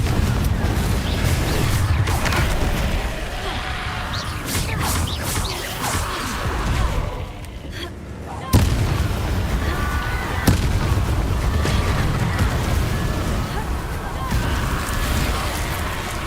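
Confringo spell explosions in the Hogwarts Legacy video game, a dense run of blasts and crashing impacts over loud game ambience, with a brief dip in the middle before a sharp new burst.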